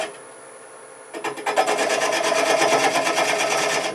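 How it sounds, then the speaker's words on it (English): A shop-made recess scraper cuts soft wood spinning on a lathe: after a quiet hum, a steady rasping scrape starts abruptly and holds loud and even, close up, with a fast fluttering texture. "Alright, so this is basically a scraper"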